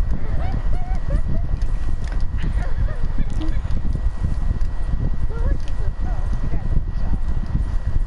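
Horse hooves clopping in Red Dead Redemption 2, a steady run of hoofbeats under dense game ambience, with honking bird calls and murmuring voices mixed in.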